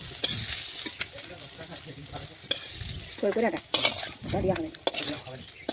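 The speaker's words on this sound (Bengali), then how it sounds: "এইভাবে উল্টে পাল্টে একটু লাল লাল করে ভেজে নেব" Vegetables for a drumstick shukto are tossed and fried in oil in a wok, with a sharp, crackling sizzle and repeated spatula scrapes and clatters against the metal, close and fairly loud.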